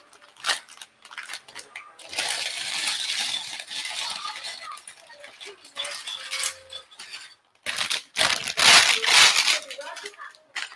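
Plastic bags from a Lego Hidden Side set crinkle and rustle as they are torn open, in irregular close bursts with small clinks of loose pieces between them.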